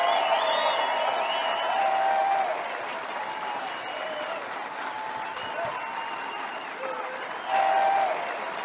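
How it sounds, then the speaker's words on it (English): An audience claps through a political speech, loud and dense at first, then easing to a steadier patter before swelling again near the end, with faint cheers mixed in. "Was he going to applaud himself for something there?"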